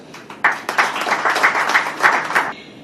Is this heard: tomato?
no